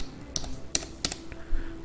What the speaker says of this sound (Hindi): तो यहाँ पे जाके अभी टाइप VNet